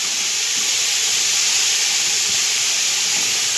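Fenugreek leaves fry in ghee with ginger, giving a loud, steady, dense sizzling hiss that holds unbroken for the whole stretch with no voices.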